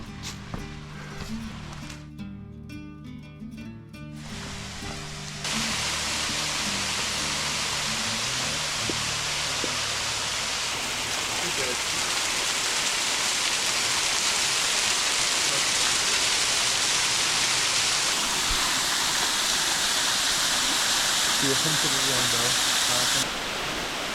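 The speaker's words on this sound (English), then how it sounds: "I think the falls are still running" A waterfall at Bethel Springs Nature Preserve in Paint Rock, a loud, steady broadband roar of falling water heard close by, preceded by a few seconds of rustling and handling noise.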